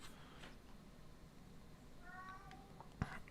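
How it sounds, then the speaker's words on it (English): Cats meowing indoors in a home on a hot day, a few short tonal cries rising near the end over steady room noise, fairly faint at first and louder in the final second. "Got cats going crazy up in here."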